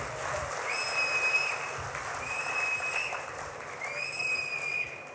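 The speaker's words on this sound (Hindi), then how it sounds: "सब एक बार ताली बजाएं और उनका आभार ज्ञापन करें" An audience at a Jain trust gathering claps in thanks, a steady wash of applause lasting several seconds with thin whistling tones above it.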